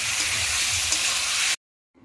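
Vegetables sautéing with cumin paste in a pan give a loud, dense, steady sizzle close by that cuts off abruptly, followed by near silence and a faint stir at the very end.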